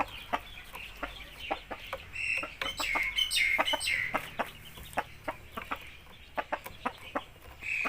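A young rooster clucks in a steady run of short, sharp notes, close by, with a few louder squawks mixed in. No one talks.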